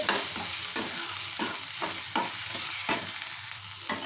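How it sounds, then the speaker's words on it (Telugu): Chicken stir-frying in a pan with ginger-garlic paste, a steady sizzle broken by repeated scraping stirs of a spatula, close and continuous with no voices. "పచ్చివాసన పోయేదాకా వేయించుకొని పోకుండా మనం కలుపుకుంటూ ఉండాలి"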